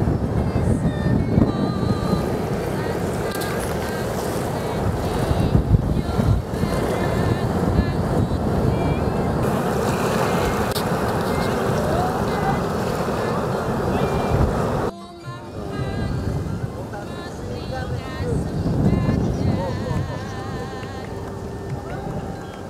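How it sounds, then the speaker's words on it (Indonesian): Large surf rolls in at Pulang Sawal beach on the south coast of Java, a steady heavy roar of breaking waves and wind close by, with a brief dip midway before the wash resumes. "ombaknya memang lebih besar ya, karena ini berada di laut selatan Pulau Jawa yang terkenal dengan ombak yang besar."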